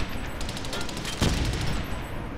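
Rapid gunfire from a tank in the Gatling Gears PC video game, a dense steady rattle of shots with one heavier burst near the middle.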